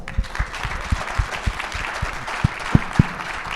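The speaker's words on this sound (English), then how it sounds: "Let's give them a round of applause" Audience applause at a live stage event: steady clapping noise throughout, punctuated by several louder, sharper claps toward the end.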